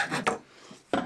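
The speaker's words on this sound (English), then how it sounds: "I also use this Shinto file" A Shinto file rasps across the wooden handle of a small sledgehammer in a few short, separate scraping strokes with quiet pauses between them.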